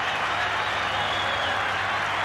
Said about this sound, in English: This has really got the crowd involved now.